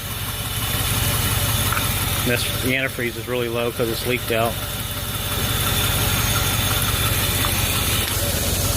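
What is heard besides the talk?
1997 Land Rover 4.0 V8 engine idling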